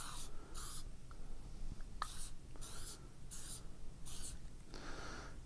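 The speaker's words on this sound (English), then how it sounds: "we want to spray the liquid penetrant. Make sure the can is shaken well. Spray it, just lightly spray it." Short hissing bursts from an aerosol can of liquid penetrant sprayed lightly onto a metal test plate, about six spaced sprays, each roughly half a second, close and moderately loud over steady background noise.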